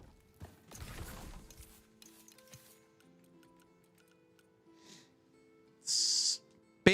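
Mechanical ticking and soft clanks from a spinner's sewing table or loom in a video game, followed by a brief bright hiss-like burst near the end, fairly quiet overall with no talking.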